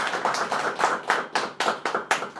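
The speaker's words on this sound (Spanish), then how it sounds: "Un aplauso por él, por favor." A small audience claps to welcome guest Dr. Juan Carlos Galván before his talk on the tax-crime reform. About eight sharp, separate claps sound fairly close, with no voices over them.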